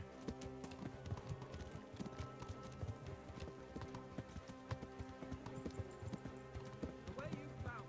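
Horse hooves clip-clopping at a quick pace in the medieval video game Kingdom Come Deliverance, a steady rhythmic stream of hoofbeats alongside game sounds, with faint talk underneath.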